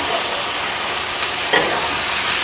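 Chopped tomatoes fry for a chicken curry with potatoes, a loud, dense, continuous sizzle close up, with a brief stirring scrape partway through.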